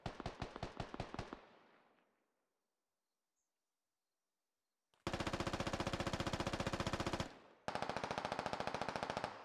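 Automatic rifle fire in the military shooter game Squad, rapid bursts of loud close shots, one short volley that fades into silence, then two long sustained strings of fire separated by a brief pause.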